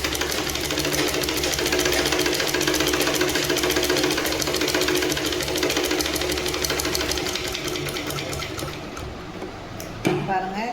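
An electric sewing machine stitches skirt fabric in a fast, steady rattling run that slows and fades toward the end, with a faint voice briefly at the close.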